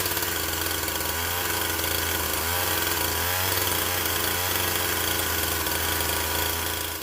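A stock Husqvarna 350 chainsaw with a suspected air leak runs loudly and steadily up close, its engine droning with slight surges throughout.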